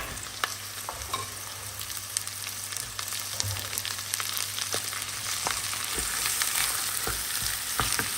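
Pork for Hungarian-style perkelt sizzles steadily in a pan over a paprika base, a continuous frying hiss with occasional stirring scrapes and clicks, close and even throughout with no talking.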